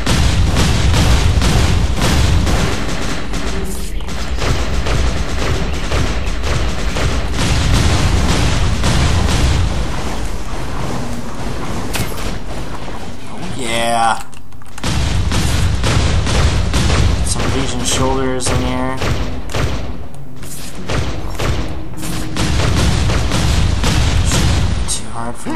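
Dense, continuous booming blasts and crackling fire from incendiary explosions in the Global Agenda game, loud and relentless for the whole stretch, with only a brief dip partway through.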